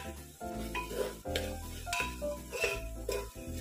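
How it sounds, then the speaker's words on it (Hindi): Spice masala for a jackfruit curry is stirred and roasted in a pan, with steady scraping strokes and a soft sizzle repeating through the short stretch, fairly close and with no talking. "एक दो मिनट और मसाले अच्छी तरह चलाते हुए भून लेंगे।"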